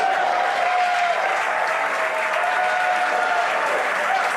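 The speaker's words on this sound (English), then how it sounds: "Crowds cheering here at SpaceX Mission Control Hawthorne as we tune in to see if we stick the landing." Applause and cheering from a crowd at SpaceX Mission Control in Hawthorne during a rocket landing, a steady dense roar of clapping and voices that fills the whole stretch at close range.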